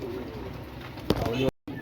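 Teddy pigeons coo in a loft amid steady background noise, with a brief louder burst near the end and a short dropout.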